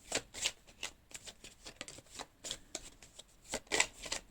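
Tarot cards shuffled by hand at close range, a quiet run of rapid papery riffles and slaps in irregular bursts, with no voices.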